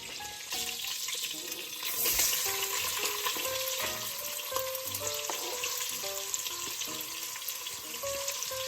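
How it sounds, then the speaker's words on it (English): Onions, carrots and celery fry in oil in a pan, giving a dense, steady sizzle that runs evenly throughout, with faint clinks of stirring mixed in and no voices. "and then I'm going to add the onions and the carrots and the celery. If you need to add more oil, you can"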